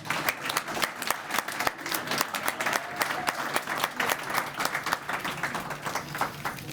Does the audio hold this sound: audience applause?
yes